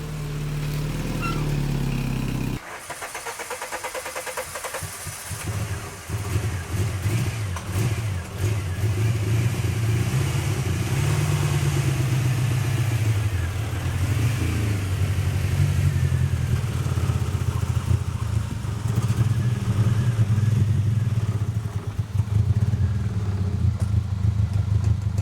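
A Miata-engined kart starts up with a brief cranking burst, then settles into a loud, lumpy idle that rises and falls in several throttle blips and revs, heard nearby and without voices.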